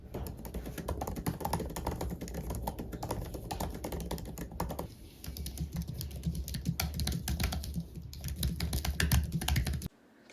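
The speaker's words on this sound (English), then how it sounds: "The keyboard feels very tactile and nice to type on" Rapid, quiet clicking of keys being typed on a 16-inch M4 Max MacBook Pro keyboard, continuous and fairly even, close by with no talking.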